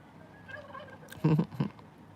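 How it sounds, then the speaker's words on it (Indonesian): A few soft bird calls, then two loud, abrupt clucking bursts close up, like a chicken squawking twice in quick succession, in a Roblox game. "kok ada suara ayam sih Bang? Ini emang ada ayam di game ini."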